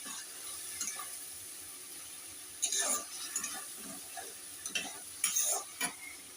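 Fish curry with salt just added being stirred in a pan, a faint low sizzle under several scattered scraping strokes of a utensil, close but quiet, with no speech.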